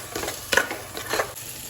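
Masala being sautéed in oil in a pan for bread chili, with a steady sizzle and a few scraping stirs, close and moderately loud, no talking.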